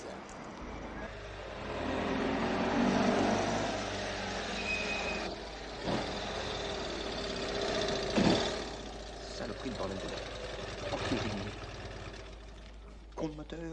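A broken-down car engine with a faulty radiator sputters and knocks irregularly, rough bursts rising and falling through the stretch, while a man curses angrily over it.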